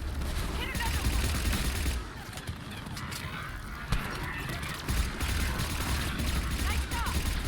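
Sustained gunfire during a Mass Effect 3 combat mission, with dense rapid bursts over a low rumbling background and a few sharper cracks, continuous throughout with game voices mixed in.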